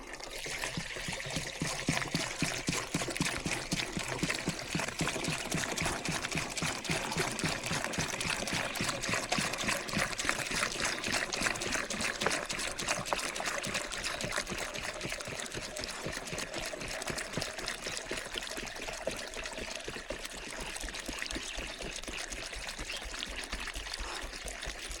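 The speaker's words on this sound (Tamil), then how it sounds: "நம்ம வந்து தண்ணி ஊற்றணும்" Water pours steadily and continuously into a 20-litre sprayer can on a Nilgiris tea farm, a close, even splashing rush that barely changes over the whole stretch.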